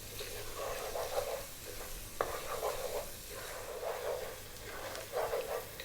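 Chopped onion and turmeric sizzle steadily in a frying pan for Ethiopian minchet abish stew, with a gentle scrape of stirring every second or so over the constant hiss of the oil.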